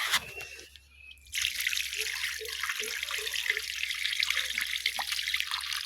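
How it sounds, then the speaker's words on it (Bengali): Mangoes being washed in water, with a steady trickling, splashing flow and small sloshing knocks close by; no one talks. "এই তো আবারও ধুয়ে নিচ্ছি।"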